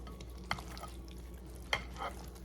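Spatula stirring potato salad with eggs and vegetables in a bowl, two soft scraping strokes standing out over a quiet background, close and faint, with no talking.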